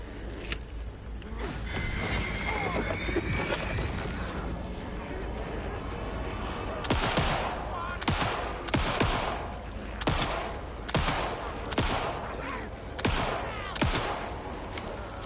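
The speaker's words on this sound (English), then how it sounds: "I wasted way more shots there than I needed to" Repeated gunfire in the survival-horror game Alan Wake 2, a run of about eight sharp, loud shots at irregular intervals over a dense bed of game ambience and mechanical clatter.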